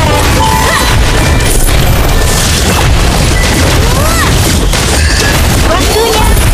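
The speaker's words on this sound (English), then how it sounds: "Your team destroyed a turret." In the Mobile Legends game, a turret is destroyed amid dense, loud booms, crashes and rapid impact effects that run without a break. Game voice lines and music mix into the clamor.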